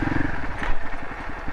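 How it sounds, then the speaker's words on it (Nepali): A worn front wheel bearing on a Crossfire RM250 motorcycle gives quick repeated clicks as the wheel turns, close and fairly loud over a low mechanical rumble. "अगाडि कट कट कट कट गर्दै आवाज आइरहेछ"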